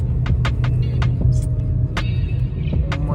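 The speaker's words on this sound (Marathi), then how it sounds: "चाकणला पोहोचलोय आम्ही. खूप ट्रॅफिक आहे पण ठीक आहे" Heavy road traffic at Chakan, with a steady rumble of engines close by and short horn-like tones and clicks rising above it.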